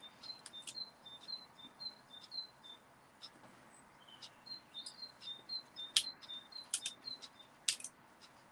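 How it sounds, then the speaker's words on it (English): Birds chirp and tweet repeatedly in short, high, bright calls, moderately close, over a soft steady background hiss. "I can hear the birds singing"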